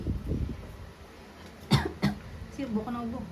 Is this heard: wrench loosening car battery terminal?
no